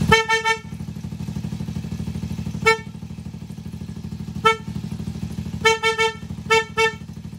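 A loud, close dual horn on a motorcycle sounds in repeated short beeps, some doubled in quick pairs, over a steady idling engine hum.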